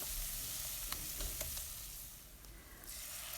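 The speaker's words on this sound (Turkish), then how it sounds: "Salçalar güzelce kavrulduktan sonra üzerine 1 litre e, su ekleyeceğim ve kaynamaya bırakacağım arkadaşlar." Tomato paste that has been roasted in a pot sizzles steadily as water is poured over it. The hiss is close and fairly even, with brief stirring clinks, and no one speaks.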